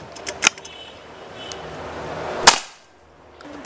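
A single sharp, cracking PCP air rifle shot from a double-tank rifle rings out close by, preceded by a couple of faint clicks, then quiet.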